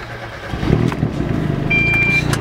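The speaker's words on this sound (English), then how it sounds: "Start up, cold start." A car engine cold-starts and settles into a rumbling idle through a newly fitted 3-inch turbo-back exhaust with a fresh downpipe flange, running rich; the exhaust sound is close and steady, with a thin high whine appearing partway through.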